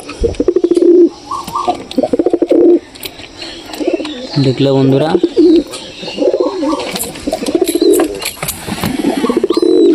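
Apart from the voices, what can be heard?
pigeon cooing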